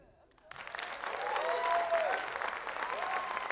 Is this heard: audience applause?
yes